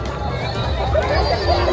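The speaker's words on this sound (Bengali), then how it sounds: "আর আজকের ভিড়টা দেখুন খালি সামনে।" Crowd babble fills the Khirai flower garden fair, a dense, continuous hubbub of many voices mixing together at close to middle distance, steady and loud with no single voice standing out.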